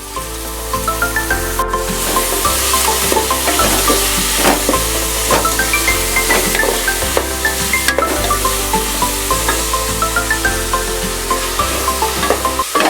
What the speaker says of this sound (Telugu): ఇప్పుడు దీంట్లో ఉల్లిపాయ ముక్కలు వేసుకుందాం